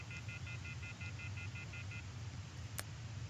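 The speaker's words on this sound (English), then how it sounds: "I took out my cell phone and dialed the first number from my contacts list." Cell phone keypad dialing tones from the video game Everlasting Summer, a rapid evenly spaced series of about ten beeps over a steady low background hum, followed by a single brief click.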